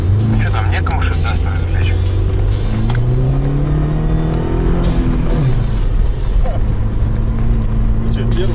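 A two-litre Duster car engine roars close by as it overtakes, loud rising and falling revving that sweeps past over a constant droning engine, with people talking throughout.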